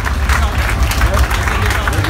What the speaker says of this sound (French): On les applaudit à nouveau